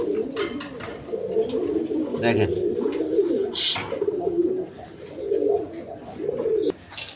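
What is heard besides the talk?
German Beauty pigeons cooing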